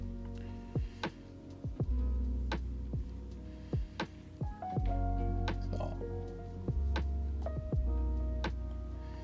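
Packets of playing cards snap together during a cardistry flourish, giving a series of sharp, crisp clicks and slaps spaced irregularly over a low background hum.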